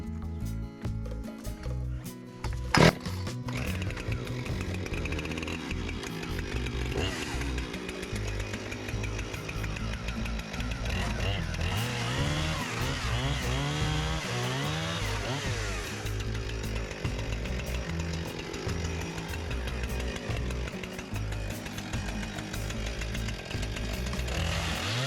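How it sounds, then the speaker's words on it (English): Husqvarna 455 Rancher chainsaw cutting outdoors while building a goat barn and fencing, its engine revving loud and steady throughout with a rough buzzing growl, a sharp knock near the start. "now for some custom woodworking with the Husqvarna 455 Rancher, a Craftsman precision tool"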